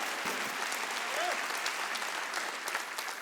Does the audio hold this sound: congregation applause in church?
yes